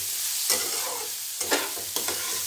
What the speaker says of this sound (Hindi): नमक डाल देंगे। तो आपके अनुसार हमें नमक डाल देना है और इसको हम अच्छे से मिक्स कर लेंगे।